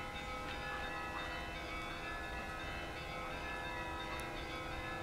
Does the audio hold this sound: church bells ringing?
yes